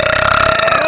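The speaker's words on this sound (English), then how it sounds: "That was the burp I was waiting for." One loud, close burp, drawn out for just under a second and heard on its own.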